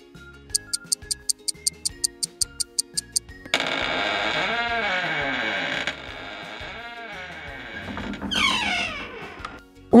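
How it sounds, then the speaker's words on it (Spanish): A Halloween creaking-door sound effect: a door creaks slowly open with a long, wavering groan after a run of regular ticks, then squeals higher near the end. "Una puerta chirriante."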